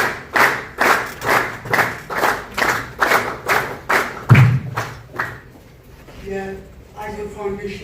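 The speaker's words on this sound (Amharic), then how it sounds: "በጣም ሞቅ ባለ ጭብጨባ" An audience at a leadership training graduation ceremony claps together in steady, rhythmic bursts, fairly close, for about five seconds before the applause dies away into a quieter room with faint music.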